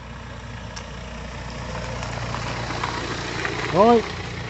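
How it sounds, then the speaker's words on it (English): A car engine hums low and steady along an outdoor Cornish lane, growing slightly louder as it approaches, with wind noise and a brief voice near the end. "there's a car coming"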